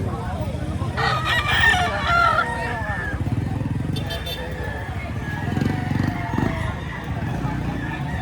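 A rooster crows nearby with a long drawn-out call, mixed with people talking and a busy outdoor background hum.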